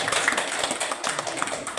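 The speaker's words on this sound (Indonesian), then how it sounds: "mari kita beri tepuk tangan" An audience claps together at a school presentation at SMP Negeri 1 Aman Muban Tengah, a steady patter of many hands that stays moderately loud and even for the whole clip, with no voices over it.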